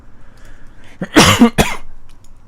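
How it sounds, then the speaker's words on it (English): A close, loud fit of coughing: a couple of harsh hacking coughs in quick succession, then quiet breathing. "Oh my god, I'm coughing so much again."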